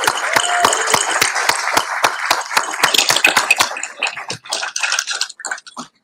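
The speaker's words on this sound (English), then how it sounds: "Please give a big round of applause" An audience at the 2025 ALVA awards ceremony in DC applauds an award recipient, starting with a brisk burst of close hand claps that thins into scattered, uneven clapping.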